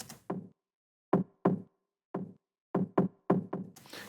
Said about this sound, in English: Kind of like a knocky sound. It's from the start of a percussion loop.